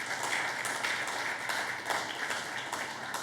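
A church congregation claps and applauds throughout, a steady diffuse wash of hand claps that fills the room without pause.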